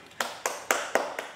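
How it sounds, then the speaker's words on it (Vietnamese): Children in a playful home setting clap in a short burst, five distinct claps spaced evenly at a moderate pace, fairly close and soft, with no voices over them. "Các bạn vỗ tay ra đi."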